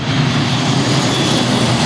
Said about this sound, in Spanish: aquí vienen ya los aviones hidrantes